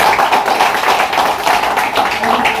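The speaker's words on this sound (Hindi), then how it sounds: "अजय जी के लिए जरूर तालियां बजाएं।" Steady, dense applause from an audience at an event honoring guests, a continuous wash of many hands clapping with little speech, fairly loud throughout.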